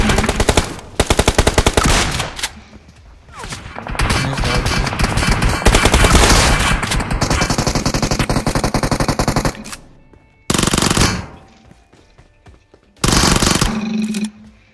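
Gunfire from a teammate in a battle royale game on mobile, loud rapid automatic bursts firing nearly continuously, then breaking into shorter separated volleys after brief pauses, close and dominant with no talk.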